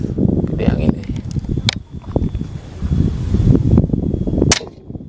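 Wind gusts across an outdoor airgun shooting range with targets at 103 metres, a steady low rumbling buffet on the microphone throughout, broken by a few sharp, close cracks and faint murmured voices.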